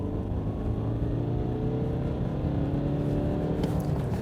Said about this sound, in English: the engine, when you rev it,